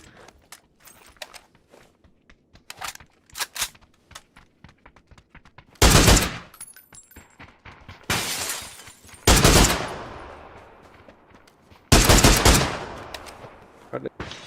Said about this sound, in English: Are they shooting you?